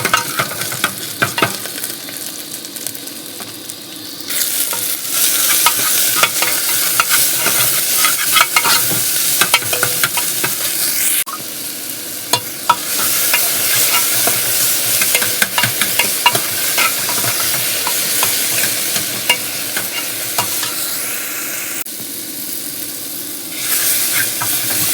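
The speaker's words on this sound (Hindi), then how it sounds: "तो अब हम करें तड़का लगाने की तैयारी।" Tadka spices and aromatics for dal fry and sizzle in hot oil while a spoon stirs and scrapes the pan, a bright steady hiss with brief louder bursts, heard up close with no voices.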